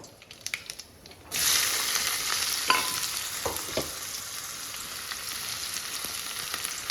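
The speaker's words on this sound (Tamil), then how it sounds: "இது நல்ல வெங்காயம் வதங்கட்டும்" Chopped onion sautéing in a pan: after a second of near quiet, a steady, close sizzle starts and holds, with a few soft stirring clicks and scrapes. No one speaks.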